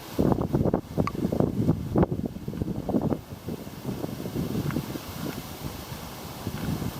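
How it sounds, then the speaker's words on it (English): Strong wind gusting outdoors on a headland facing the ocean at a wartime radar bunker site near Catherine Hill Bay, buffeting the microphone with steady low rumbling roar and irregular bursts throughout. "Wind's picking up as well."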